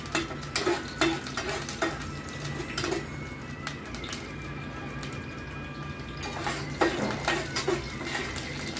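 Tempering seeds dropped into hot oil in a pan on a small gas stove, sizzling and popping with sharp crackles and spatters, a steady fry underneath and a few louder bursts near the end.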